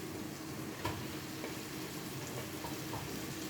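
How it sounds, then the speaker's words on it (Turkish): Ground beef tipped into a pan of already-browned peppers and onions gives a steady, close sizzling hiss with faint crackles throughout, and no one talks. "Şimdi hemen kıymamızı da koyalım"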